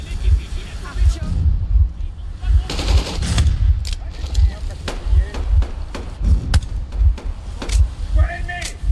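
Bursts of rapid gunfire in the shooter game Metro Exodus, repeated close and loud over a low rumbling background, with a voice talking in places.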